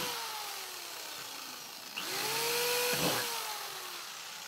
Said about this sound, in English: I'm just going to drill some extra holes in this container.